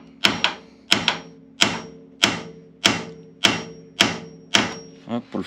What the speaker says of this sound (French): Petit coup de marteau sur la...